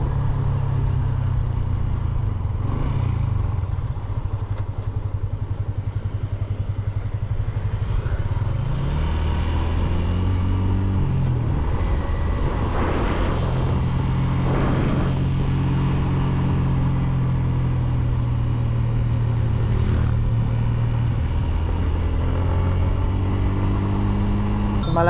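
A Yamaha Sniper 150 motorcycle rides a downhill, curving road in Aurora, its engine droning steadily with revs rising and falling through gear changes, mixed with constant wind rush and no talk.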